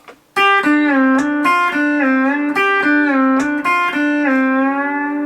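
A twangy pedal steel guitar plays a quick pick-blocking lick of clipped, bending notes, crisp and close with sharp attacks, no talking.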